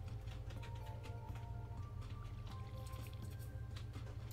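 Water splashes from a watering can onto crops in Stardew Valley, soft and intermittent beneath steady game music, with no talking.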